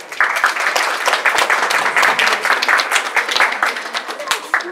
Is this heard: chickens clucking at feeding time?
no